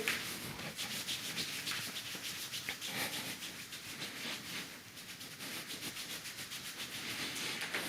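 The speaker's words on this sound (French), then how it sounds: "On frotte le bas du dos." Hands rub the lower back during a kung fu warm-up for young children, making a steady, close, continuous brushing friction with fast rhythmic strokes throughout.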